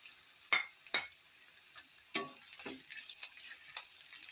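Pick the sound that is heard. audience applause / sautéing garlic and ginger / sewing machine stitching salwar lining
sautéing garlic and ginger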